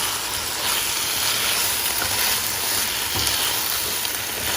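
Prawns frying in a pan for a Bengali prawn curry, a steady loud sizzle and hiss of hot oil with faint scraping as they are stirred, close and continuous with no talking.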